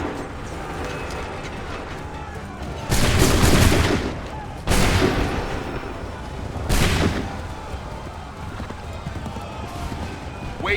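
In Assassin's Creed III, loud musket volleys crack out three times, each a broad booming blast with a rolling tail. The shots are spaced a couple of seconds apart over a low battlefield rumble.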